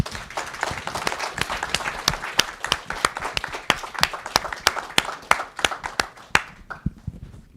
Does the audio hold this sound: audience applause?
yes